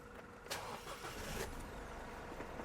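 A stock 2022 Isuzu D-Max Hi-Lander Cab-4 1.9 pickup engine idles quietly and steadily, with a faint soft rumble and a couple of brief noisy bursts.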